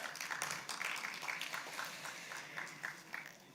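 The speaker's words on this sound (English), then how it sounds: "can we have a round of applause?" Audience at a gems and jewellery trade fair roadshow, clapping in light, scattered applause, faint and fairly distant, with individual claps audible.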